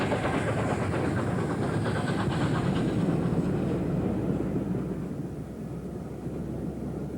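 Mallard, the steam locomotive, pulls out of Skipton heading north, a steady roar of engine and rolling wheels that rumbles on, easing slightly toward the end.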